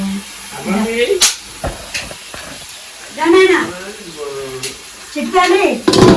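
Food fries in oil during home Sankranthi cooking, with hissing sizzle and occasional stirring sounds heard under people talking nearby.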